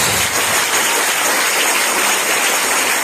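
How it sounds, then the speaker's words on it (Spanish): A church congregation gives a sustained round of applause during a service, dense, even clapping filling the room with no talking over it. "Damos una ofrenda de palmas al Señor por la vida de ellos."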